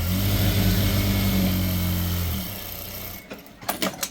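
A sewing machine stitches a shirt collar with a steady, fast mechanical whir for a couple of seconds, then stops, followed by a few soft handling clicks and rustles.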